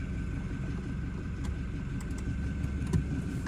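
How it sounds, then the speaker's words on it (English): A car pulls out of a driveway around eight in the morning at the start of a road trip, its engine a steady low rumble inside the cabin with a few faint clicks and rattles, no talking. "Pulling out of the driveway"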